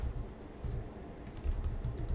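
Fingers tapping out code on a computer keyboard in steady bursts of quick, close clicks, with short pauses between runs and no voices.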